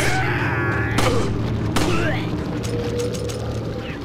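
Gunfire from Resident Evil 4 on PC, a few sharp shots spaced a second or so apart over a busy game soundtrack, with some talk mixed in.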